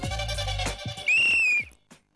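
A single sharp, high-pitched whistle blown by a contestant on the Telugu television game show Gadasari Atta Sogasari Kodalu 2, held steady for about half a second and loud, following a burst of crowd noise and chatter.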